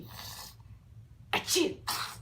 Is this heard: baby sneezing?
yes